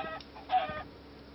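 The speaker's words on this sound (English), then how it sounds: "I'm gonna kill this chicken." Short chicken clucks in the Minecraft video game, a couple of quick mid-pitched bursts heard fairly close with no talking over them.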